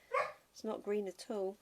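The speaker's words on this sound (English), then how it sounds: "Sorry about my Cassie dog chattering away." A pet dog named Cassie gives a short, sharp bark indoors at a card-making and stamping table, then someone talks close by.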